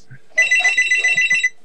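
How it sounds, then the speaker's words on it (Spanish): An electronic telephone ring trills in rapid repeated bursts for about a second, loud and clear with no talk over it, in a Dead Space 3 gaming session. "Llaman por teléfono."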